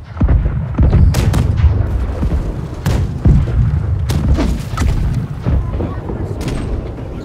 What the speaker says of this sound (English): Right side cannon fire all of them.